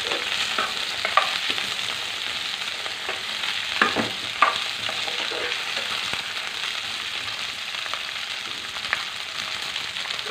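Okra sizzles steadily in a hot pan for a tomato curry, a continuous crackling hiss with occasional sharper pops and spatula scrapes, close and fairly loud, no voices.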